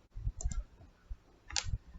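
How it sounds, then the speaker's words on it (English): Numbers being typed on a computer keyboard, a few quick clicky keystrokes in small bursts, close and fairly quiet with short pauses between taps. "I'm just typing in some numbers."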